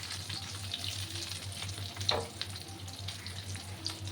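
Pointed gourd fries in mustard oil over low heat, a steady close sizzle and crackle with occasional stirring scrapes, no talking.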